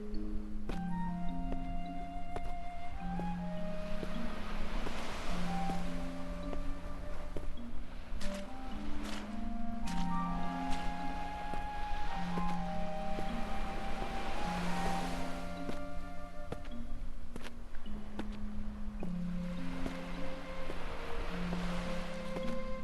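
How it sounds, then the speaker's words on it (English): Gentle ocean waves swell and wash along a coastline in the video game Drizzlepath, rising and falling in slow surges beneath a steady melodic music track. "Oh, listen to the water. Listen to the water and the music."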